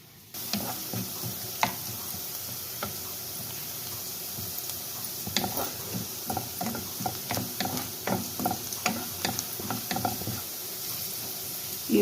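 Onions frying in a pan with spices such as amchur, coriander, turmeric, chili and cumin powder for a dry chana masala: a steady close sizzle with scattered clicks and taps of stirring, no voices.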